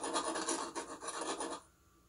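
Medium sandpaper glued to a small dowel rasps inside a pipe end, a steady close scratching scrub with quick back-and-forth strokes for under two seconds before stopping.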